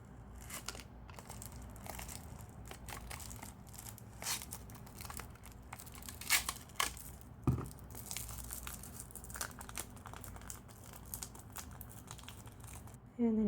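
A die cut being drawn through a Xyron sticker maker gives soft crinkling and tearing rustles of paper and sticky plastic, quiet and intermittent, with a few sharper clicks.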